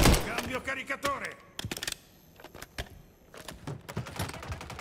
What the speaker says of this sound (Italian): Cambio caricatore.